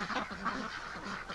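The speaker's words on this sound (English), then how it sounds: "That's the drakes, the Muscovy drakes." Muscovy drakes give soft, breathy calls in a short burst of low hissing and huffing, close and fairly quiet with no talking.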